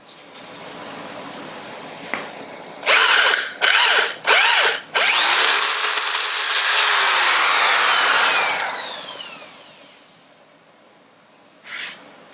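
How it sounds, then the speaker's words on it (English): A power drill bores a hole in a metal motorcycle seat bracket: a few short bursts of whirring, then one long steady run that winds down, followed by a final brief burst, loud and close. "So let's drill this hole first."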